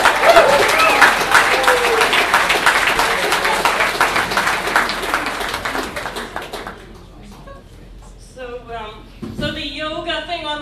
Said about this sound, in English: Big round of applause for your next act